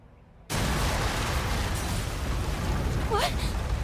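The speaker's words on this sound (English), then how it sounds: "An explosion? And a big one." A big explosion in the video game Trails Through Daybreak II bursts in abruptly and loud, then roars on as a sustained, dense rumble with a brief high chirping sound near the end.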